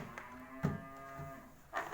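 A cow lets out a low, drawn-out moo with a rough, throaty tone, followed by a short second call near the end, fairly close and with no talk over it.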